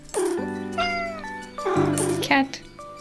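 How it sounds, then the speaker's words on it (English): Two cute cat meows from the cozy video game Minami Lane, each a clear harmonic cry with rising and falling pitch, close and fairly loud over soft game music. "Cat."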